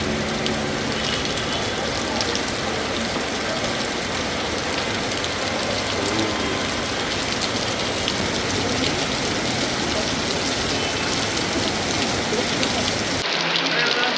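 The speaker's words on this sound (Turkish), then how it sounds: "Yağmur altında efendim" Heavy rain pouring down on a street in Naples, a loud, dense, continuous hiss and splatter that fills the whole stretch before cutting off abruptly near the end.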